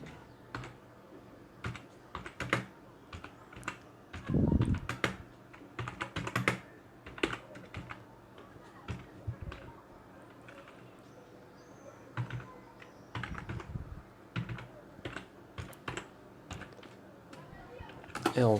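Typing C++ code on a computer keyboard, with bursts of close key clatter and a few louder thumps, sometimes under someone speaking French.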